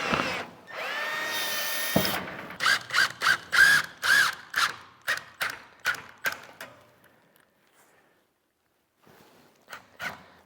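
A power drill whines steadily and slowly for about two seconds while building large barn doors, followed by a run of sharp, evenly spaced bursts that fade out, then a few faint knocks.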